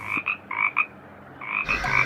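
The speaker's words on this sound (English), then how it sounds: "A family of frogs croaked at Gordon as he lay in the mud." Frogs croak near a muddy ditch, several short raspy croaks in uneven bursts with brief gaps, fairly close and moderately loud, with no talking.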